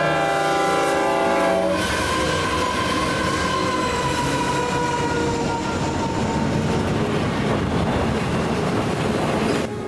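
A freight train passes close by with its multi-tone horn blaring loudly at first. A heavy, continuous rumble and clatter of wheels and cars follows as the horn fades out.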